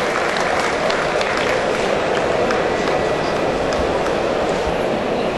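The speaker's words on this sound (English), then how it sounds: "please give your champion steer and reserve a great round of applause as they leave the ring momentarily" A large audience applauds steadily for the champion steer and reserve leaving the ring at the Royal Highland Winter Fair cattle show, a dense, loud wash of clapping that runs without a break.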